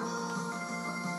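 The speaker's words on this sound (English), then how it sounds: "Oh, that was my phone ringing" A mobile phone ringtone plays briefly, a steady tonal ring close by, alone without talk.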